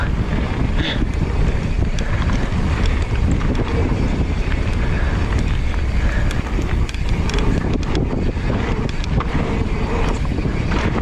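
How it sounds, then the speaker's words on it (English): Strong wind buffets a boat and the microphone in a steady, loud roar with water rushing below, continuous for the whole stretch with no speech. "Oh, there's the wind."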